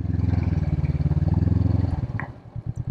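A Honda CB500X motorcycle being ridden, its twin-cylinder engine pulsing in a loud, close, rhythmic throb that eases off partway through, followed by a few uneven lower beats.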